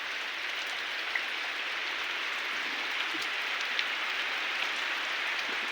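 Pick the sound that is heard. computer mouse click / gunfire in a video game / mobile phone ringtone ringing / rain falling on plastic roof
rain falling on plastic roof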